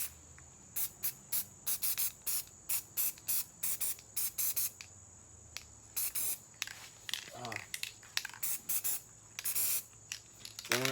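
Short bursts of a spray paint can laying down small neon pink dots, a string of quick hissing sprays in an uneven rhythm, close and loud, with brief gaps and some speech and background sound between them.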